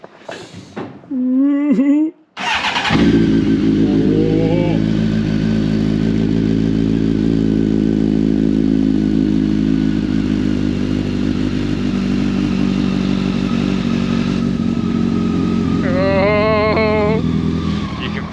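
A Honda X-11 motorcycle engine with stock exhaust starts up and settles into a steady, low idle that runs on for a long stretch, with brief voices at the start and end.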